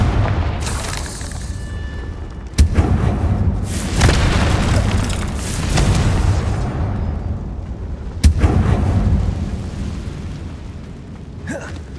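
Confringo spell explosions in the video game Hogwarts Legacy: several loud, booming blasts with sharp onsets and long rumbling tails, two especially punchy hits standing out against a dense crackling roar.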